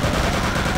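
Rapid zombie gunfire bursts from the Return to Castle Wolfenstein video game, loud, dense, continuous shots filling the short moment with no talk over them.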